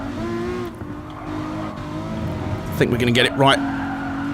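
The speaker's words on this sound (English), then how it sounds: "Just endless tyre squeal." Tyres squeal as a racing car corners in the Gran Turismo Sport video game, a sustained engine drone with bursts of screeching near the end, while someone talks over it.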